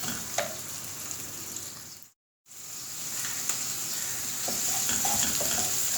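Onions frying in a pan until lightly browned give off a steady, close sizzle throughout, broken once by a brief dropout to silence.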